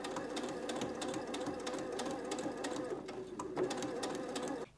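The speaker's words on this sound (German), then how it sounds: "jetzt nähe ich wieder neben dieser Linie entlang hoch" A sewing machine stitches a summer dress along a marked line: a steady, fast mechanical whirr with rapid needle clatter that runs almost without a break and stops abruptly at the end.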